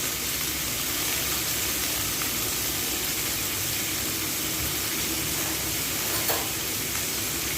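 Sautéed shrimp and upo sizzle steadily in a hot pan while being stirred, a constant dense frying hiss with soft scraping and stirring movement throughout.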